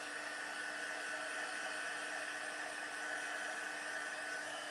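A heat tool drying a stamped watercolour card blows with a steady, continuous whirring hiss, close and unchanging throughout.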